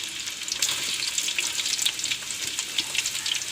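Sliced big onions drop into hot oil for a potato chicken curry, frying with a bright, steady crackling sizzle that carries on evenly throughout.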